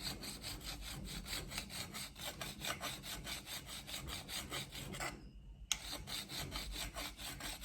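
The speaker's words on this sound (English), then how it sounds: "What I'm doing right now is filing out the weld" Hand filing on a weld in electrical conduit, a steady rhythmic rasp of back-and-forth strokes, close and fairly quiet, with one brief pause partway through and no talk.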